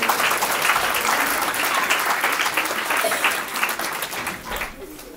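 A congregation at a Christmas Eve church service breaks into sustained applause, a dense steady wash of clapping that fills the room and fades slightly at the end.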